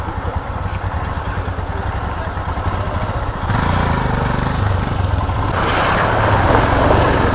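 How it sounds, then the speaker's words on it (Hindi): A motorcycle rides off-road through water and over rocks, its engine droning steadily close by and growing louder and rougher midway as it pushes through. "थोड़ा टफ है यहाँ पे बाइक चलाना"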